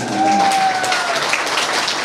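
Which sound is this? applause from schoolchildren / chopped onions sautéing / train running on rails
applause from schoolchildren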